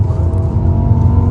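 A BMW M6 with its V10 and Dinan sport exhaust growls steadily, a loud, close, continuous engine drone under throttle with no talking.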